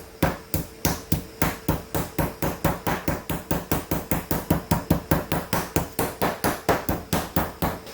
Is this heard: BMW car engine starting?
no